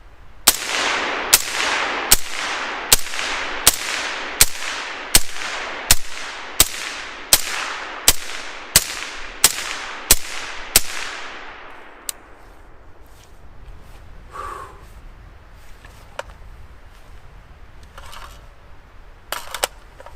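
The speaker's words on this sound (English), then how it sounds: "10 rounds. Suppressed. K-Spec." Ten sharp suppressed rifle shots with a K-Spec bolt carrier group, fired at a steady measured pace, loud and close, each with a short ringing tail, followed by quieter handling clatter and outdoor ambience.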